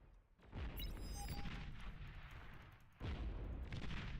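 Bombing run explosions in a video game land as low rumbling booms, one burst near the start and another at about three seconds, fairly faint over dense battle noise.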